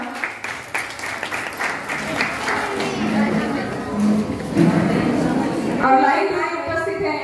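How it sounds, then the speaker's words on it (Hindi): Loud clapping from a crowd welcomes two people to the stage at a Women's Day gathering in Rajasthan, swelling midway and running under talk and background chatter throughout. "जोरदार तालियों से स्वागत कीजिए आप इन दोनों का।"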